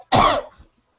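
A single sharp, close cough from one person, short and loud, followed by silence.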